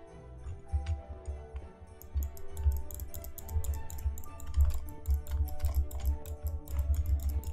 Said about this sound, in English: Okay, I'm clicking.